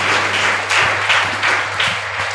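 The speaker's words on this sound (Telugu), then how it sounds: "బిగ్గరగా చప్పట్లు కొట్టాయి" A church congregation claps loudly after a prayer, a dense, steady wash of applause that swells in rhythmic pulses over a low background hum.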